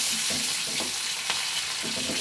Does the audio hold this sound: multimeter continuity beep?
no